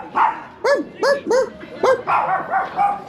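A dog barks in a quick series of sharp, close woofs, about six or seven in a row with brief gaps, loud and clear against a quiet background.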